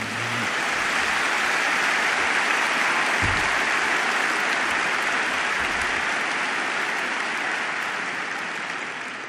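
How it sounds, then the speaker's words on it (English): Loud, sustained audience applause fills a large hall at the Berkshire Hathaway annual meeting, a steady dense wash of clapping from a big crowd that holds for about nine seconds and tapers only slightly at the end. "Now you can go wild with applause for the group."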